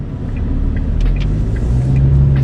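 A 2021 MG Extender DC X Grand automatic pickup accelerating on a test drive: loud, steady low engine rumble heard from inside the cab, rising slightly in pitch as the revs build, with no talking.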